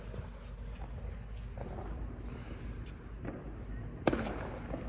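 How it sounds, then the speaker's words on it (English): Distant fireworks pop and thud intermittently around a city neighborhood at night, with one sharper bang standing out amid steady outdoor background noise and faint voices. "Why am I hearing so many different fireworks but I can't see none?"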